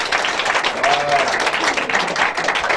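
A church congregation applauds the Lord during a Sunday service, a steady wash of clapping sustained throughout with voices mixed in.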